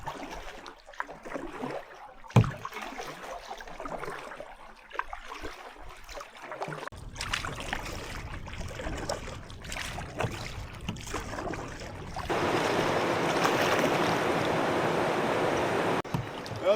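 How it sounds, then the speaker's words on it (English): A canoe is paddled across a lake in Algonquin with a double-blade paddle: rhythmic splashes and water swishes close by, with wind noise building to a steady rush near the end and no talk. "I'm gonna get my double blade and make through this lake before the wind gets too strong"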